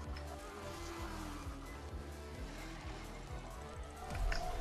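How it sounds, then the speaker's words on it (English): Car engine revving and tires scraping in a Fortnite driving event, a continuous loud rumbling drone with shifting whine, steady throughout and louder toward the end. "I'm currently braking and nothing's happening."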